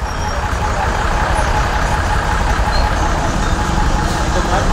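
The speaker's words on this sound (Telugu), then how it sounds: "అది మన తిప్పలగడ్డ బస్సు, విజయవాడ నుంచి వస్తున్నాం." A Tippalagadda bus coming from Vijayawada rumbles past on a road near Revendrapadu, a steady broadband engine and tyre roar running close and loud throughout the clip.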